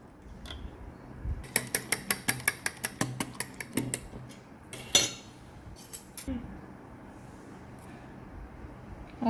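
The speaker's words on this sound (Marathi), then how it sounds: "याला आपण एका काट्याने मिक्स करूया, चांगली फेटून घेऊया." Eggs and milk are beaten with a fork in a bowl for French toast, a rapid run of light clicking taps that slows into scattered scrapes and clinks before fading to near quiet, close and without speech.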